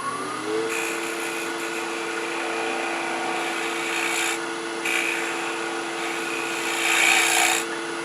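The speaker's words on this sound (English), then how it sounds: "I'm going to use a small round 1/2 inch scraper and just do a little bit of cleanup at the bottom." A small half-inch round scraper works the bottom of a wooden ring bowl spinning on a wood lathe, giving a steady close scraping hiss over the motor's constant hum, with slightly louder passes toward the end.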